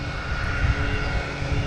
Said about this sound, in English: Got a Cape Air taking off.